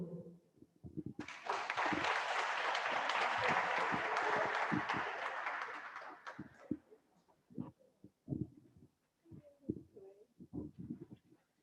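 Applause from an audience at a school feeding day commemoration event, a dense burst of clapping lasting several seconds before thinning into scattered claps and murmuring voices.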